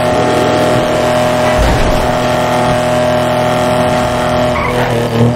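A car engine in GTA 5 revs hard in a continuous loud drone, with tire squeal and skidding noise running through it.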